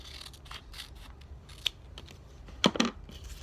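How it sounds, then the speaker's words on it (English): Craft scissors snipping paper at a table, a few quiet scattered snips followed by a sharper close cluster of cuts near the end, with no talking. "I'll cut off just a little more."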